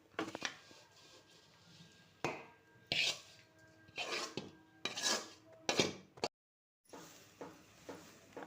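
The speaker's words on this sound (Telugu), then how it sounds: "అన్నీ వేయించి పక్కన పెట్టుకున్న సోజీ అన్నీ ఇప్పుడు బాగా కలపాలా." A spoon stirs fried semolina and coconut in a metal pan in a series of distinct scraping strokes, close and fairly loud, separated by brief pauses and one short full silence.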